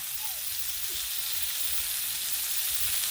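Vegetables sizzle on a hot griddle with ghee, making a steady, soft frying hiss with faint crackles throughout and no talking.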